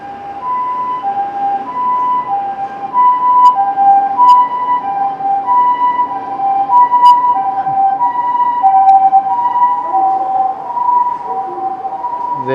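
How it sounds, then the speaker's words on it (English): An ambulance siren, numbered A15, wails near an airport in Okinawa. The steady two-tone electronic pattern holds loud and clear over a low road rumble for the whole stretch, with no talking. "That is a ambulance,"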